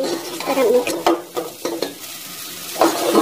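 Potatoes frying in a handi for aloo matar pulao, a close crackling sizzle broken by several scraping stir strokes and clinks of the spoon against the pot.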